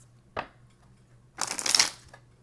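Tarot cards being shuffled and drawn at a reading table: one brief riffle, a pause, then a longer, louder burst of shuffling close by, with no talking.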